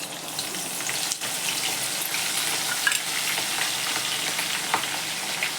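Mustard seeds and green chillies crackle and sizzle steadily in hot oil, a dense continuous frying hiss with small pops, close and fairly loud, with no voices.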